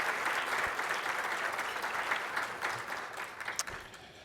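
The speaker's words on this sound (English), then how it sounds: "And I think you can applaud, yes" Audience applause at a Duke Law scholarship luncheon, a steady wash of many hands clapping that fades gradually toward the end.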